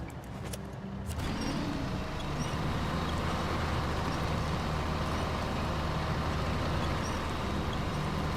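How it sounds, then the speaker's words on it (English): A heavy highway truck engine in the video game SnowRunner rumbles steadily at close range, a continuous low drone with road noise and no voices. "just a highway truck doing highway things"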